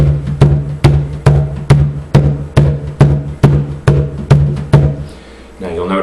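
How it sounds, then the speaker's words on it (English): Deep bass tones struck on a cajon, about a dozen evenly spaced hits with a booming low thump, played solo and close, ending in a short pause. "The bass tone is the lowest frequency on the drum."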